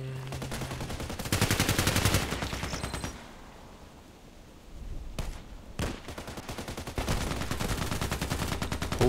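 HK 417D assault rifle firing in a video game, rapid automatic bursts and single shots, loud and close, with pauses between volleys.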